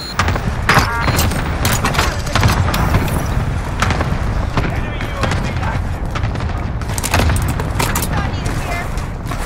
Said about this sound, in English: Here's the airstrike target.